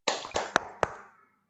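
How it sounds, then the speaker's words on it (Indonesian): A classroom of pupils claps the PPK rhythm together: four quick, moderately loud claps in about a second, slightly ragged rather than perfectly in unison. "mari kita tepuk PPK"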